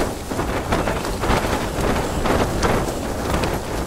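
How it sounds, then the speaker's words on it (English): Strong wind roaring across a winter mountain in Scotland, a loud, continuous buffeting rush hitting the microphone with gusty surges and no voices. "if you couldn't hear me over the wind"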